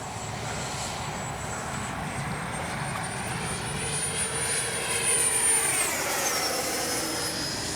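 A Freewing Yak 130 radio-controlled jet with a 70mm ducted fan streaks past at full speed, its engine roar swelling and falling in pitch as it passes by at a distance.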